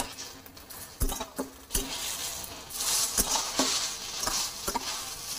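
Washed Gobindobhog rice is stirred and fried in a pan with coconut bits, giving soft sizzling under repeated sharp scrapes and taps of a spoon against the pan, close and fairly quiet, with no talking.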